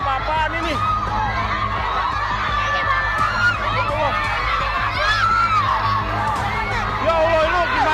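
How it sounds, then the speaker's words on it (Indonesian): School students scream hysterically after a minivan crashes through a school fence into them, a dense, continuous wall of overlapping shrieks and shouts from many young voices, loud and close throughout. "Teriakan histeris dari para siswa yang tergeletak membuat semuanya panik"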